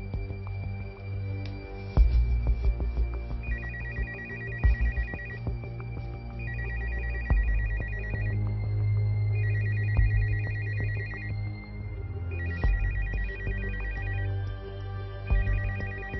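A telephone ringtone rings in a Malay drama telemovie scene, sounding as five or six steady repeating bursts about every three seconds over a low, constant background hum.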